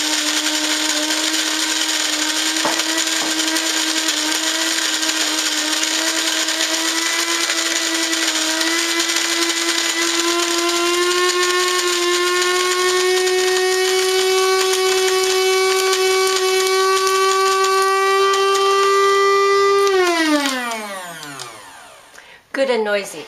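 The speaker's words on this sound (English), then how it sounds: "Put it in the burl grinder and put the lid on" A burr grinder grinds a quarter cup of whole coffee beans with a loud, steady whine that slowly rises in pitch for about twenty seconds, then spins down and stops abruptly, with no talk over it.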